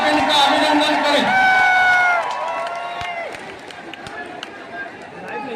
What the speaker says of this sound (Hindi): जोरदार तालियों से आप इनका अभिनंदन करें।